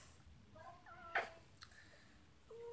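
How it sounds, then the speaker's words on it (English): A pet cat gives a few short, faint meows at close range in a quiet room, with a soft click in the middle and a little background hiss. "My kitty. He's a really cute cat."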